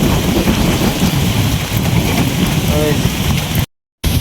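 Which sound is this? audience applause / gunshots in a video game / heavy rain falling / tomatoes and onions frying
heavy rain falling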